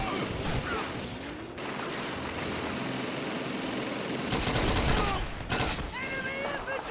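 Sustained machine gun fire in a World War II battle in Call of Duty, crossing the Rhine: dense, continuous rattling bursts with booming shots and mechanical noise, close and loud, with shouted voices over the fighting.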